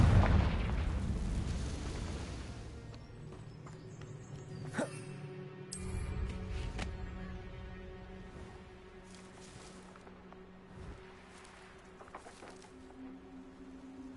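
Confringo fire spell cast in Hogwarts Legacy, a booming explosive blast with a low rumble, followed by lingering magical effects and a faint game music bed.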